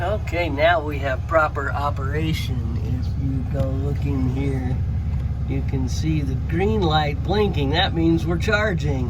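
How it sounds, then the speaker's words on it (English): A Cummins pickup truck engine idles steadily in the background, a low constant diesel rumble running underneath someone talking throughout. "So my full-blown Cummins truck is providing enough power to charge."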